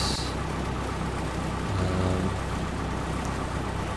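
Steady low drone of an A2A Cessna 172 engine running in a flight simulator, continuous and even, with no talking.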